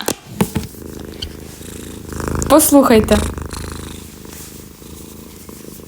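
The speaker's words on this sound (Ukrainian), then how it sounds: "Мені дуже подобається, як вона муркає." A cat purrs with a low continuous rumble close to the microphone, while a person speaks briefly over it.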